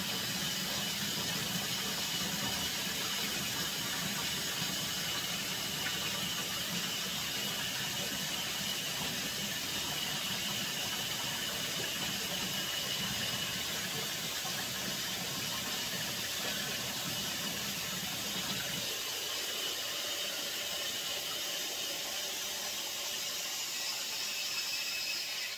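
Hot water runs hard from a tap in a steady, noisy hiss and rush that holds for about nineteen seconds, then drops to a quieter trickle near the end, with no talking.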